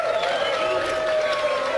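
A live crowd applauds and cheers steadily at a poker final table in the Penn and Teller Theater in Las Vegas, a dense, continuous roar of clapping heard from within the room.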